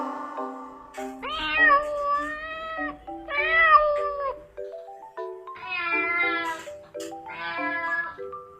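Several cat meows, drawn-out and rising and falling, set over a cheerful children's alphabet song that runs throughout.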